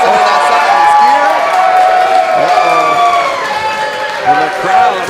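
A wrestling crowd at a live student showcase show roars and jeers at wrestler Jimmy Wild, a dense wash of shouting voices and scattered clapping filling the arena, loud and sustained throughout.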